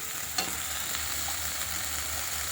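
Spices and potatoes for a Bengali fish and potato curry fry in a pan, giving a steady, close sizzle with a soft stirring knock or two and no voices.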